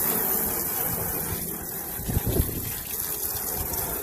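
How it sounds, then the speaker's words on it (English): A garden hose rinses a greasy outdoor grill, giving a steady broadband gush of spraying water that holds evenly throughout, with a brief louder splash near the middle. "We're using now a garden hose to rinse"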